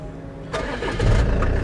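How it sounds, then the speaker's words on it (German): A car engine cranks and catches, a short starter whir followed by the motor firing up into a low rumble, heard close and alone. "du hast das Auto so gestartet"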